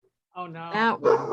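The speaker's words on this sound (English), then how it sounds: "sorry about the dog, somebody's outside" A dog indoors barks at someone outside, giving a short, loud run of yaps that overlaps with a person talking nearby.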